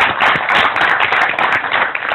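Live audience clapping steadily throughout, loud and dense with slight swells, at an interview-style stage event with a poet on stage.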